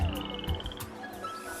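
Frog croaking at a countryside pond, a few short throaty croaks close by over faint background, with no talk.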